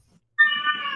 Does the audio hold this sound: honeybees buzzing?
no